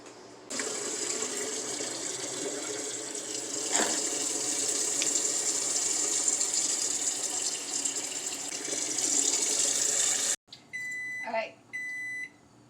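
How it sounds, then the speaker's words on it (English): Cold tap water runs in a steady, even rush over boiled eggs for about ten seconds, then stops and a few electronic kitchen timer beeps follow. "put it under running cold water until the water feels cold"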